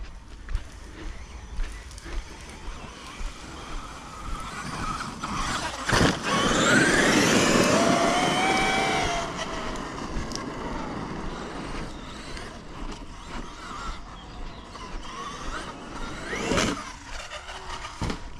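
A radio-controlled Traxxas X-Maxx monster truck with a new bevel gear set, its electric drivetrain whining and surging under throttle with a gritty crackling, a louder sustained burst midway, outdoors.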